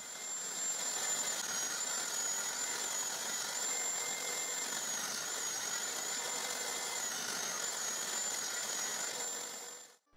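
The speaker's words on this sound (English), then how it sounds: "Now I set the table saw fence to cut something like 5 squares of that welded wire mesh" A table saw rips welded wire mesh into thin strips: a steady, loud, high-pitched whine with a grinding edge that holds for about ten seconds and then cuts off abruptly.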